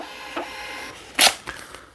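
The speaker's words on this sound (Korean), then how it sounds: "그러면 현금 영수증이 발행되는 겁니다." A KIS-2200 card terminal prints a cash receipt: a few short dry rasps and clicks close by, with one louder burst of printer noise in the middle. No one talks.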